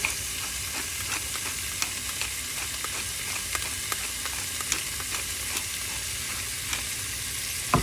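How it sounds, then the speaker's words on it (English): Ground beef sizzles steadily in hot oil in a pan, a constant close frying hiss broken by a few faint clicks and scrapes, with no talking. "I'm gonna add my ground beef"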